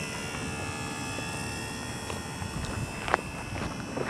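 A model airplane takes off at a squadron flying session. Its small engine gives a steady, high whine that carries across the field over light outdoor background noise.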